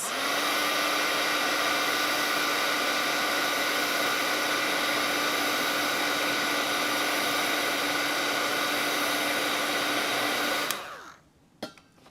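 A hair dryer blows continuously at close range over a watercolor painting of a ghost cat, a loud, steady whooshing whine that cuts off abruptly near the end, followed by a faint clunk.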